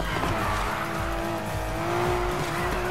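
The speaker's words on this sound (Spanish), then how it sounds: "Esto es como derrapa este coche." Car drifting in the racing game Need for Speed Heat, with a loud continuous engine drone and sustained tire squeal throughout, no speech.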